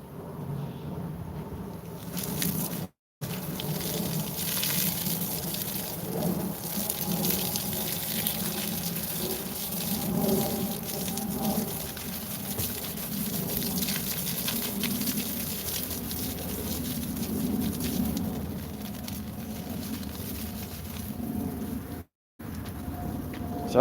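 Water gushing steadily onto grass from a hose or tap, a continuous broadband rush that holds at a fairly even level with two brief dropouts.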